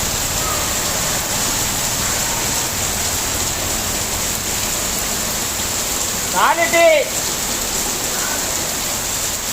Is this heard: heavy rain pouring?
yes